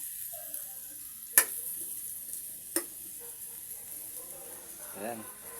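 Onions sizzle softly in a pan while being stirred, with a steady low frying hiss and a couple of sharp clinks of the utensil against the pan; a voice speaks faintly in the background.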